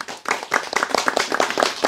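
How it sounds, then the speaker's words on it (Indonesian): An audience at a religious lecture claps briefly, a quick burst of overlapping hand claps, close and fairly loud, lasting under two seconds. "Ayo MUI tepuk tangan."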